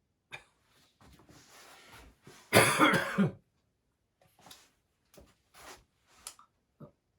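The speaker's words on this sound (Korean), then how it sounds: "화로를 피워놨더니 연기가 조금 있어가지고요. 기침을 합니다." A few scattered coughs and throat clearings from smoke of an indoor brazier, one louder, harsher cough in the middle, followed by softer small coughs spread over several seconds.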